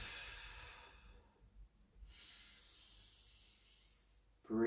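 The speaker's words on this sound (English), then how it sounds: "we'll breathe out as we take the arm up and over" Slow, deep breathing during a Pilates mobility exercise, a soft airy exhale that fades away, then a fresh breath drawn in after a short quiet gap, close and faint in a calm room.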